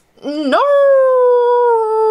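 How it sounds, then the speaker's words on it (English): A toy police-van animal figure from a Zootopia playset howls in a long, loud, sustained wail that rises after a brief yelp, and a voice acts out the howl. "Oh, stop howling."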